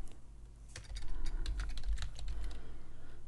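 Computer keys clatter in a quick, close burst of taps, entering text into a Microsoft Access 2013 database form, quiet and with no talking.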